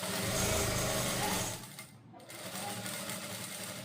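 A sewing machine runs at speed, double-stitching lehenga panels, with a loud, steady whir that drops off midway, then continues as a softer, lower mechanical hum.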